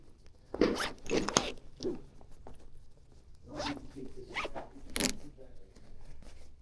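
A clothing zipper is tugged and worked in several short rasping pulls, close to the microphone, inside a quiet abandoned factory room, with a few breathy vocal sounds between the pulls.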